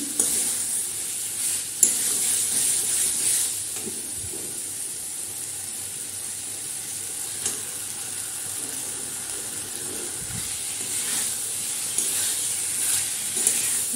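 Fried pointed gourd is stirred through potato masala for a fish curry, with a steady close sizzle and repeated scraping strokes of a spatula against the pan and scattered sharper clinks.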